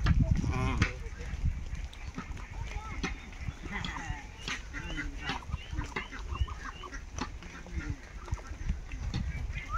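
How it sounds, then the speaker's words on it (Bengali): Poultry calls, clucks and quacks, from a flock of ducks coming home to a rural homestead, repeated and overlapping at moderate distance, with people talking over them throughout. "অনেকগুলো হাঁস আসতেছে"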